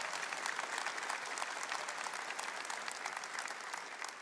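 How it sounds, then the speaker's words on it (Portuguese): A church congregation claps for a few seconds, a dense, steady wash of applause that stays even throughout and is heard without any talking over it. "Dá uma salva de palmas para Jesus, para Nossa Senhora."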